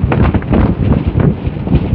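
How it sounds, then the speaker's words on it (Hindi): Steady, loud wind buffeting the microphone of a rider on a motorbike heading from Dehradun toward Haridwar, a low rumbling roar with irregular gusty pulses and no other clear sounds. "जो हवा चल रही है प्यारी प्यारी ठंडी ठंडी हवा"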